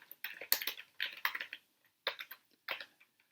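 Short bursts of computer keyboard typing, quick clusters of clicking keystrokes separated by brief pauses, close and fairly quiet with nothing else audible.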